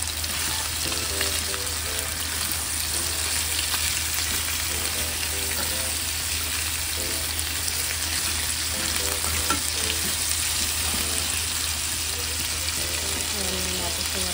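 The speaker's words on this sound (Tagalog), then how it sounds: "Ayan, medyo napiprito na yung patatas." Steady, dense sizzling of potatoes frying in a hot pan for chicken adobo, with occasional scraping and stirring sounds throughout, close and continuous with no talking.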